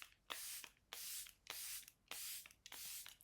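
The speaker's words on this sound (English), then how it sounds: "So I'm going to use my Charlotte Tilbury setting spray," Charlotte Tilbury Airbrush Flawless setting spray misted in five close, crisp hissing bursts, each about a third of a second long, with brief clicks between them and no voices.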